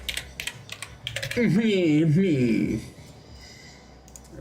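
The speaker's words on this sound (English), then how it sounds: "now I got this big clicky keyboard in" Clicks from a big, clicky computer keyboard come in quick bursts, then pause while someone briefly speaks, and a few more keystrokes follow near the end.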